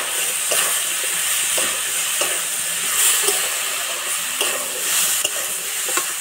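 Radish and radish greens fry in a pan as washed red lentils are added, a steady bright sizzle running throughout with several soft scraping stirs of a spatula at intervals, no voices.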